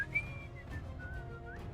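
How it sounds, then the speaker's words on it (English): A person whistles a tune during a tabletop Dungeons & Dragons session, a thin, faint melody of short and held notes heard alone without talking. "I start whistling"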